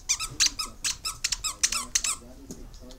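A squeaky dog toy squeaks about a dozen times in quick, uneven succession, loud and close.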